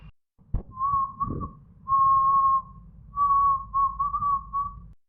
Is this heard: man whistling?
yes